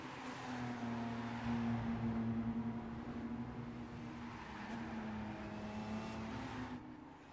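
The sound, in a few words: race car engine in the video game Gran Turismo 5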